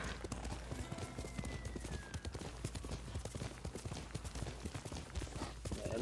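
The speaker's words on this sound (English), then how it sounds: "You're a good horse, Kaki." Steady, rapid horse hoofbeats in Ghost of Tsushima clip-clop on a hard surface, continuing without pause at a brisk trot over faint background noise.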